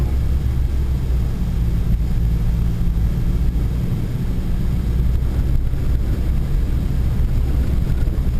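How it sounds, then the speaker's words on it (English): A Pontiac Sunfire drives through snow, its engine and road noise forming a steady, loud low rumble with wind buffeting throughout, no speech. "This little Pontiac Sunfire handles pretty good in the snow."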